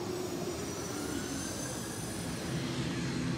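A steady, loud drone of an airplane's engines at an airport, heard from nearby as a continuous roar with a high whine riding on top.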